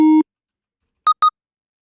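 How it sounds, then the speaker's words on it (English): Synthesized tones from Serum in Ableton with aliasing and distortion: one sustained buzzy tone, silence, then two short identical beeps in quick succession, loud and clean with no voices. "you can hear aliasing here"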